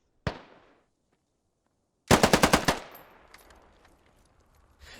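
Gunfire in the video game Squad during a Russian ground forces market defense: one sharp shot with a decaying tail, a pause, then a loud rapid burst of about six automatic rounds echoing away into faint background noise.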